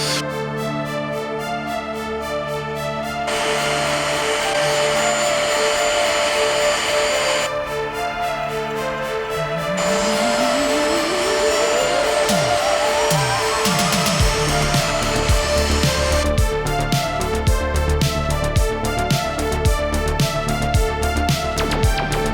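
A Hoover vacuum cleaner runs continuously while cleaning wet, dirty seats in an old van, a loud steady whine that shifts in pitch as the nozzle moves and airflow changes, with clattering toward the end.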